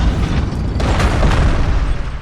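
A power bomb detonating in the video game Metroid Other M, a loud, deep booming blast with a rumbling low roar that holds for about two seconds.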